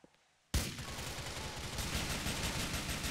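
Rapid, sustained gunfire from the video game GTA IV erupts suddenly after a brief quiet, continuing as dense bursts of shots at steady loudness.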